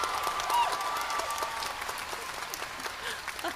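An audience at a college convocation ceremony gives a student a round of applause, steady clapping with a few whoops and some voices mixed in, gradually thinning.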